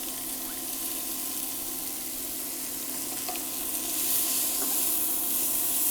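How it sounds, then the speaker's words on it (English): Chopped onions and garlic sautéing in melted butter for green bean casserole, a steady close hiss of frying that grows slightly louder partway through, with no talk. "once that butter is melted, we're going to add our onions that we chopped. And you can go ahead and add the garlic."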